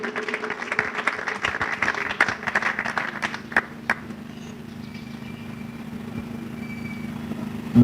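Audience applause welcoming an author at a triple book launch in Lubumbashi: scattered clapping for about four seconds that thins out and fades into a low steady hum and room noise.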